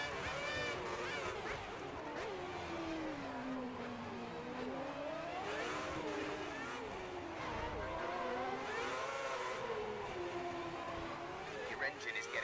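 An F1 car engine in the F1 2010 racing game screams at high revs with its pitch rising and falling through gear changes, running continuously throughout the clip with talk over it.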